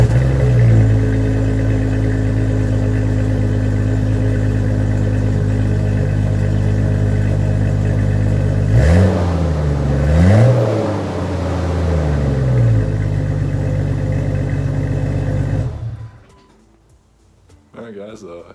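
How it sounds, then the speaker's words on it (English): A 1999 Jeep Cherokee XJ's exhaust on a cold start: a loud, steady low idle rumble that swells and dips in a brief rev midway, then drops off abruptly near the end. "I'll give you all, I guess, a quick exhaust clip. It'll be a cold start, so it'll sound mean."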